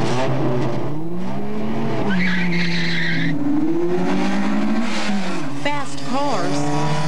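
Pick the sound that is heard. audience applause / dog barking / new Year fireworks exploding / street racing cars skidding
street racing cars skidding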